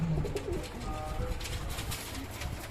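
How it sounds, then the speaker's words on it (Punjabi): Several pigeons cooing nearby, soft low throaty calls repeating over a busy background with faint voices. "ਆ ਕਬੂਤਰ ਆ ਬਈ ਜਿਹੜੇ ਦਿੱਤੇ ਗਏ"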